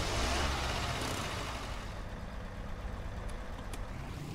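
Engine of a car in the Roblox game Dusty Trip turning over and settling into a steady low rumble, with a brighter noisy burst at the start, heard alone with no talking.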